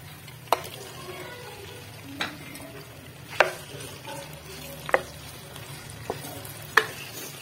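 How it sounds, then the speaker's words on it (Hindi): Half a kilo of chicken frying in oil in a home kitchen pan, a steady soft sizzle broken by several sharp clinks and scrapes of a stirring spoon at irregular intervals, close by, with no talking. "देखिए, ऑयल में हम चिकन शामिल कर लेते हैं।"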